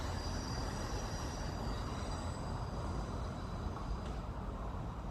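A train rumbles steadily through Eastleigh station, a loud continuous roar of wheels on rail with faint high metallic squeal, no voices over it.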